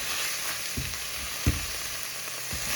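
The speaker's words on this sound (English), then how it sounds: "Gonna saute for a couple of minutes." Vegetables sauté in a hot pan, giving a continuous close sizzle broken by a few stirring scrapes and taps, with no talking.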